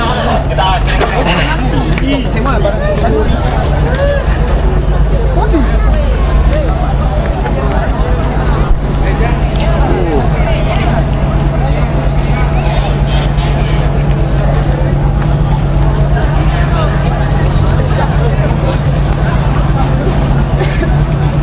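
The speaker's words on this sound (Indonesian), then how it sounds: "jadi kita udah turun di Pelabuhan Murhum Bau-Bau" Murhum Port in Bau-Bau, a busy ferry port, rumbles with loud, constant boat engine drone and crowd hubbub, with voices talking throughout.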